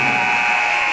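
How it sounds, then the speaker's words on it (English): Game-ending buzzer at a Wheaton vs. Olivet College men's basketball game: a loud, steady, sustained electronic tone lasting the whole moment, over faint arena noise. "as the buzzer sounds"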